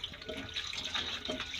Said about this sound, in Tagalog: hugasan ng mabuti na tubig